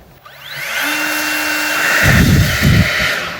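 An EGO cordless leaf blower, repaired with a cheap BLDC controller, runs on its turbo setting. A rising motor whine spins up into a loud, steady rush of air, with gusty low buffeting in the last second and a half and no talking.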